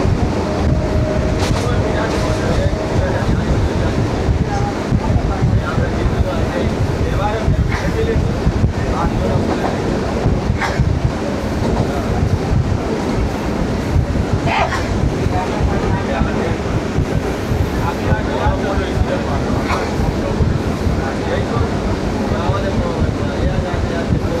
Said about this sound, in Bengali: জানলার কাঁচটা খোলা রয়েছে, প্রচণ্ড ঠান্ডা বাতাস আসছে।